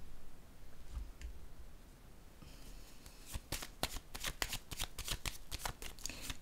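Tarot cards being laid down and then shuffled, a few soft taps of placement followed by a quick run of crisp riffling shuffle bursts, close and fairly quiet.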